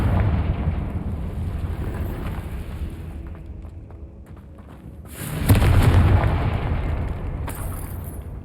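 A Confringo fire spell from Hogwarts Legacy detonates as a loud, booming burst over a steady rumbling game soundscape, swelling and then holding near-field for a couple of seconds before easing off.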